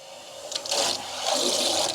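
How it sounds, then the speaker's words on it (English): Cold water rushes into an electric hot water heater tank with a hissing gush that swells louder partway through, nearby and with no speech. "then we will turn our cold water on"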